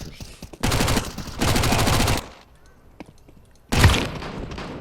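Gunfire in the online shooter Counter-Strike Online 2 comes as two loud sustained bursts, a quiet pause and then a sharp blast, with a shotgun among the weapons heard at close range. No one speaks.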